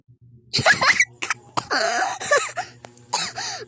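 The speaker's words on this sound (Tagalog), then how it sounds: "Kanina pa akong ubo ng ubo." Several harsh coughs in quick bursts with short pauses, close and loud, some with a throaty, rasping quality.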